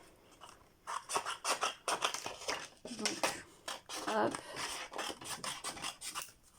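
Scissors cutting white paper at a craft table, a run of quiet rasping snips and rubs in an uneven rhythm, with a brief spoken word near the start.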